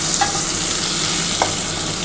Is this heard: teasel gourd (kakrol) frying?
yes